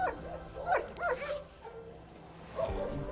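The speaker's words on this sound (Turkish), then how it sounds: "Mesela şu köpek şu" At an animal shelter, a dog whimpers and yips in short, high bursts, with a pause before a final cry, fairly close and alone.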